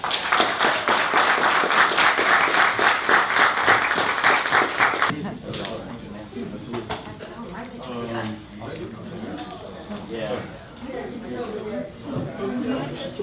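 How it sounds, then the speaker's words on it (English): An audience at a live FILM-COM talk applauds with loud, dense clapping for about five seconds, then it drops away as people chatter and talk over the quieter room. "Give these guys a round of applause."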